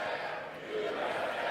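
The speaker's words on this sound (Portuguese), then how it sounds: "Gritos se misturam, há algumas vaias e os republicanos se levantam e dizem USA, USA" A crowd in the chamber of the US Congress shouting and booing during a presidential address, a dense continuous roar of many voices heard from a distance.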